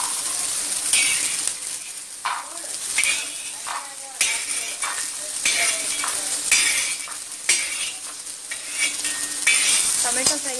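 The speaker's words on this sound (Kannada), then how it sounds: "ಟೊಮೆಟೊ ಫ್ರೈ ಆಗ್ತಾ ಇದೆ," Green tomato frying in a pan for a spicy chutney, a steady sizzle with frequent scraping and clinking of a spoon stirring against metal, close and fairly loud, no talking.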